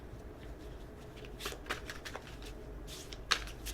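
Tarot cards are shuffled in a soft, close riffle of papery flicks, with a sharper snap near the end and a quiet room tone underneath.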